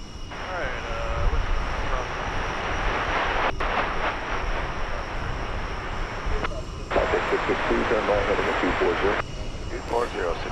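Small airplane taking off at DFW Airport, a sustained engine drone rising and holding at moderate distance, mixed with radio chatter and someone talking over it.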